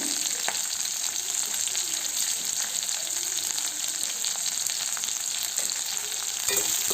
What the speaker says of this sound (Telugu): నేను బీన్స్ యాడ్ చేసుకొని కొద్దిగా ఫ్రై అయ్యాక లైట్గా తర్వాత క్యారెట్ కూడా యాడ్ చేసేసుకున్నాను